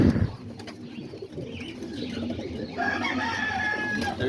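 Homing and roller pigeons coo softly in a backyard loft, with low murmuring calls throughout and a brighter bird call rising in the second half.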